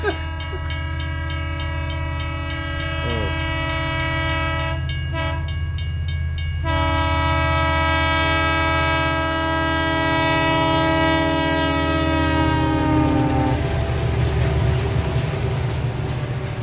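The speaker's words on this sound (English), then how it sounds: "The train is coming." A train horn blares in long sustained blasts with a rich chord. Train noise rumbles underneath as the train passes, loud and close.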